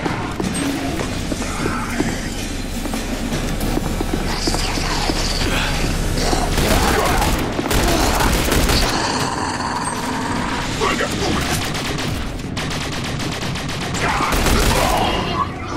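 Sustained gunfire in The Bureau: XCOM Declassified, with continuous bursts of shots, booms and mechanical clatter in a loud battle, mixed with shouting voices and game sounds throughout.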